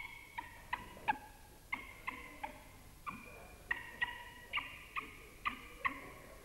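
A coot, a water bird, gives a rapid series of sharp, clipped calls in irregular clusters, fairly faint and alone against a quiet background.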